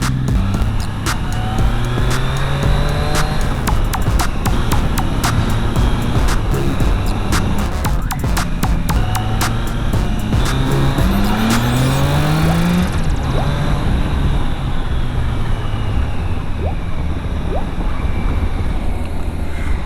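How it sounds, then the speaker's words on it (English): A Triumph Tiger Sport 660 motorcycle exhaust note while riding through hills, a loud, continuous engine drone with rising pitch sweeps as it accelerates through gears, heavy wind rush and occasional clicks close to the microphone. "to attach my mic on my bike to record its exhaust note"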